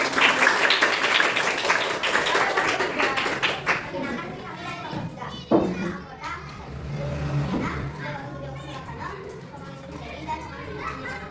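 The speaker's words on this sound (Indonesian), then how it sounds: "Silakan kembali ke tempat duduk, tepuk tangan dulu" Children in a classroom clap briefly after being sent back to their seats, the clapping loud at first and fading into chatter and movement, with a teacher's voice and a few sharp taps later.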